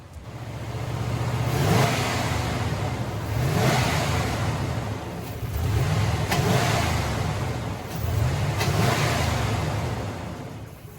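A Ram truck engine struggling to idle runs with a rough, rhythmic surging, its low rumble swelling and sagging about every two seconds, close and steady with no talk.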